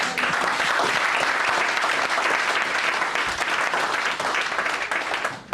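Loud continuous clapping from a church congregation acclaiming the Lord, a thick wash of many hands applauding at once, steady throughout with slight fading at the very end.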